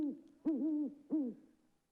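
An owl gives several hoots: a soft opening note, then two clear, resonant calls spaced about half a second apart, close and alone with nothing else heard.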